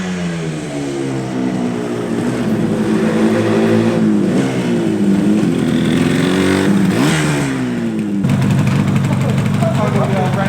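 A Yamaha RD 250 two-stroke classic motorcycle engine idles and revs, its pitch rising and falling in several swells with a sharper blip near the end, loud and close.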